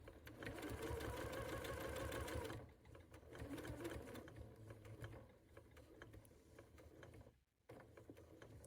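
A sewing machine stitching a seam on a Rocky Star quilt hums steadily and close for a few seconds, then slows to quieter intermittent mechanical ticking and rustling as stitching backtracks and the thread is cut, no talking.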